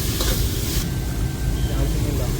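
Salted ingredients for a fish curry being stirred in a pan, a dense, steady sizzle with rough stirring scrapes, close-up and continuous without speech.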